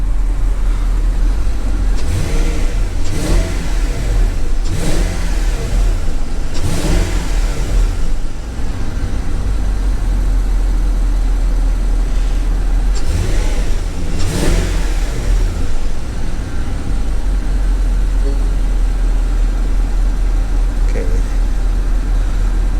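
Porsche Cayenne S 958 with a 4.8L engine revving in a shop during a diagnostic check for knock sensor codes, several loud revs rising and falling over a steady close idle.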